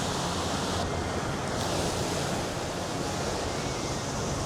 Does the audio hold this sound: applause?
no